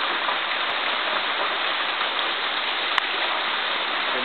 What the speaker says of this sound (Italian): siamo alle bellissime cascate del Cigno Bianco.